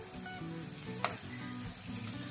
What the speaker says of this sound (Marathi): आता आपण हा बारीक केलेला लसूण त्यात टाकायचा आहे